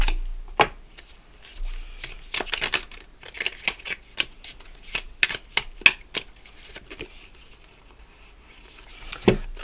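Magic cards are shuffled with irregular dry riffling and flicking sounds, close and crisp, coming in scattered bursts with quiet gaps between them.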